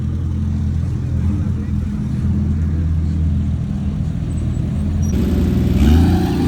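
Heavily modified 964 Porsche Turbo with a cage and over 500 horsepower, its engine droning and revving close by with a deep steady rumble that swells near the end, with a voice talking over it.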